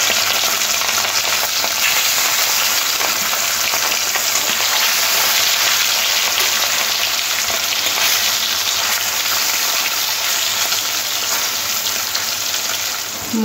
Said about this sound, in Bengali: তেলটা গরম হয়ে গেলে মাছগুলো এপিট ওপিট করে লাল লাল করে ভেজে নিতে হবে